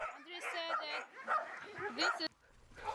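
Sled dogs in the Russian Far East barking and yipping after a run, with excited, high whining barks close by and overlapping. A voice talks over them.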